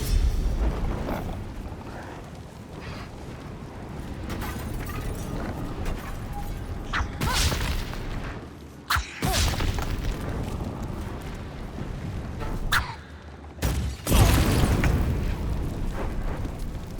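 Explosions in a video game, several deep rumbling booms and bursts rolling over one another amid a continuous roar of noise, some loud and near, with no speech.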